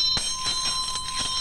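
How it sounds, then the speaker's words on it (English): A singing bell rubbed around its flange with its clapper gives a sustained, ringing tone with bright overtones, accompanied by rhythmic scraping pulses from the rubbing. "If I take the clapper and rub it on there, around and round, listen to what the bell does."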